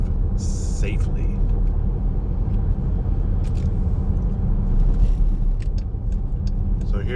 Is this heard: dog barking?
no